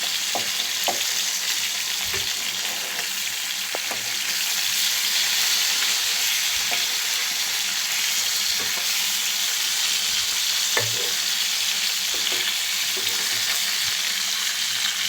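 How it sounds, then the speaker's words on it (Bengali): Tilapia fish fries in hot oil in a pan, giving a steady, close sizzle with occasional crackles and soft stirring sounds throughout. "মাছটা কিন্তু ভালো করে ভাজতে হবে তেলাপিয়া মাছ একটু ভালো করে ভাজলে কিন্তু ভালো স্বাদ হয়"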